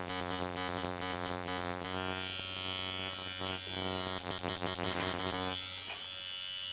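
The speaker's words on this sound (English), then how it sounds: "you hear the sound of the coil machine, so soon as I hit a little bit the skin, the machine goes back" Tattoo coil machine running against skin, a steady electric buzz with a strong hum that wavers and softens slightly as the needle touches down, close and alone with no talk.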